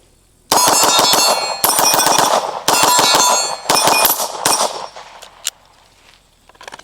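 Rapid pistol shots from a Fusion Firearms XP-Pro 2011 ring out in quick strings, each shot followed by a sharp metallic clang of bullets striking steel plate targets at an outdoor range, in four bursts before trailing off.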